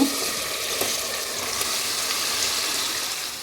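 Food frying in a home kitchen while sehri is being cooked, a dense continuous sizzle filling the whole stretch with no talk, a few faint clicks of utensils under the hiss.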